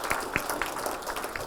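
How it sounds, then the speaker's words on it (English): Parents, grandparents and family at a school Terrific Kids award assembly give a round of applause: a dense, steady patter of many hands clapping, moderately loud, with a few sharper individual claps standing out over 1.5 seconds. "So give yourselves a round of applause"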